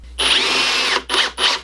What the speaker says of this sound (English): use just a regular drill, not an impact